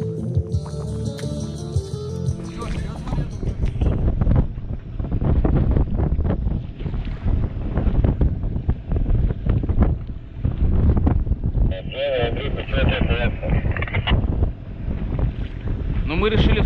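A fishing boat pounds through waves on stormy Lake Segozero in Karelia, its motor droning under heavy, gusting wind noise and splashing water throughout.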